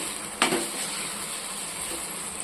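Chicken masala with mushrooms stirred in a pan for restaurant-style creamy mushroom gravy, giving a short scrape of the spoon followed by a steady, fairly quiet sizzle.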